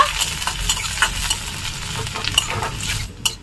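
Chopped garlic and spring onion fry in a wok while being stirred, with a continuous sizzle broken by scraping, clattering spatula strokes, loud and close.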